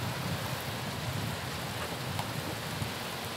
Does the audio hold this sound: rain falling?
yes